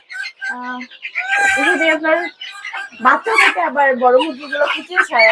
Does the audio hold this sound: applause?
no